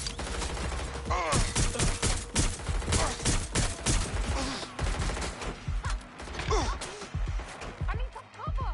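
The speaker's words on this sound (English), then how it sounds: "I'm under fire!" Dense gunfire in Watch Dogs Legion crackles in rapid, overlapping bursts and volleys, loud and close, while voices shout over the shooting.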